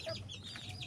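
Mother hen clucking among her chicks in a backyard poultry yard, a few soft close clucks over faint background noise.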